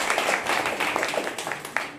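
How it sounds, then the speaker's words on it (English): Brief applause from a live audience at a show: scattered, moderately loud clapping from a small crowd that thins out over about two seconds. "Give her a round of applause."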